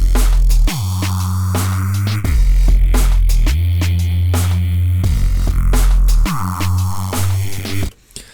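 Old school Reese bass from a Synapse Audio Dune 3 synth, loud and gritty, played as sustained low notes that shift pitch every second or so, with a buzzing, phasing texture and an abrupt stop near the end.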